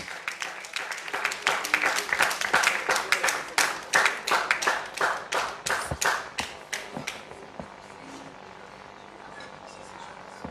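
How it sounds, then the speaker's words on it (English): A hall full of guests at a Nigerian private medical practitioners' award dinner breaks into loud applause, dense clapping that peaks early and gradually thins and fades over about ten seconds. "So, ladies and gentlemen, with a big round of applause, welcome the latest patron of AMPMP,"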